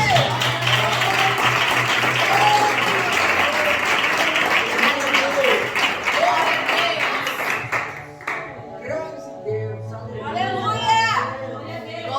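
A church congregation at an overnight vigil claps together loudly and densely for several seconds, then the clapping thins out as a voice talks over the fading applause.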